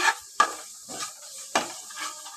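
Ginger-garlic paste fries with grated onions in a pan: a light sizzle under a few sharp spatula scrapes and stirs, close and spaced apart.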